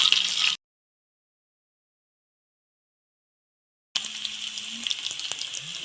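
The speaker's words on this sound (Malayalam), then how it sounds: "കടുക് പൊട്ടി ചുമന്നുള്ളി അങ്ങോട്ട് ഇട്ടു" Shallots sizzling and frying in hot oil after mustard seeds have popped, a steady close crackle with a long silent gap in the middle, no talking.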